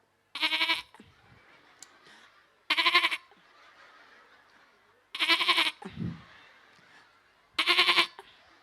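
A man imitates a goat's bleat four times during a Maulid Nabi lecture in a mosque: loud, quavering vocal bleats evenly spaced, with a faint low murmur between them.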